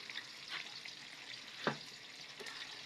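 Adobo sizzling and frying in a pan, a steady soft crackle with a brief louder stir or clatter partway through, no voices.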